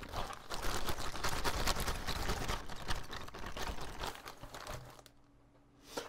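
A blue plastic bag is crinkled and rustled close to the microphone, giving dense, continuous crackling for about five seconds before it stops and near-quiet remains.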